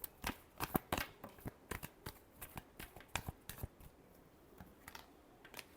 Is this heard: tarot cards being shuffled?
yes